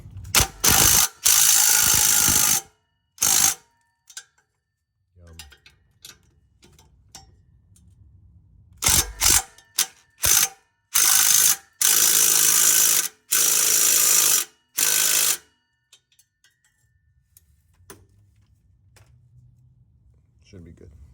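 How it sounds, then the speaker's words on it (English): A ratchet clicks in quick bursts, tightening the bolts on an exhaust flex pipe on a Chevy Sonic, loud and close with short pauses between strokes. "Just going to tighten these up a little more."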